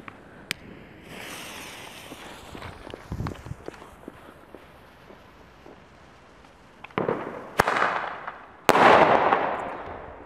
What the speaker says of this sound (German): jetzt nochmal 3 Flashbang im Dunkeln